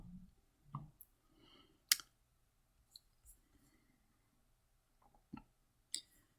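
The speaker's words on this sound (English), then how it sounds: "to add a new one, all you have to do is double click the new tab and name it whatever you want" Computer mouse clicks in a quiet room: a handful of sharp, isolated clicks spread unevenly across the stretch, some close together like a double-click, with near silence between them.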